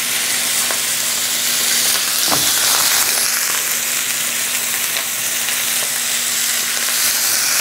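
Vegetables and butter frying in a Stargazer 13.5-inch brazier, a steady, loud, close sizzle and hiss that holds throughout, with a brief clink or stir partway in.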